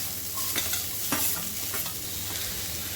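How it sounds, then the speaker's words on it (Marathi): Onion sizzling in a hot pan with golden-fried garlic while fenugreek bhaji is being cooked, a steady close frying hiss with a few sharper crackles and light stirring, no talk. "आता हे बघा मी आता कांदा टाकते."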